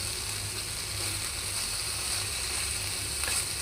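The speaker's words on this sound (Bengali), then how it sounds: "এখন ভালো করে এটা ভাজা ভাজা করে ফিরে আসছি" Okra and mixed vegetables fry in a pan with five-spice tempering, producing a fairly quiet, even sizzle with faint rhythmic clicking in the background.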